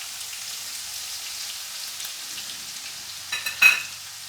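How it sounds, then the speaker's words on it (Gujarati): Asafoetida and garlic going into hot oil for baingan bharta, a soft, steady sizzle and hiss followed near the end by a few sharper spits and crackles. "તેલ ગરમ થાય એટલે એમાં આપણે હિંગ નાખવાનું છે પછી લસણ નાખવાનું છે"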